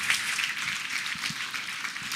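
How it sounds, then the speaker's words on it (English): Brief applause from an audience, a dense wash of clapping lasting about two seconds at steady moderate loudness. "Big round of applause."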